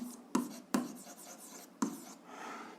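A pen writes algebra on paper, three crisp close strokes in quick succession, then a softer, longer scratching at the end, quiet and with no voice over it.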